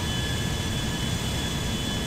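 Steady, loud roar of an airplane engine in the video game GTA 5, a dense continuous jet-like drone with a thin high whine, unchanging throughout and with no talking.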